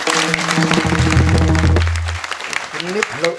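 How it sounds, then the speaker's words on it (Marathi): An audience claps steadily throughout a kirtan performance while a voice and tonal music sound over the applause. "टाळी वाजवा."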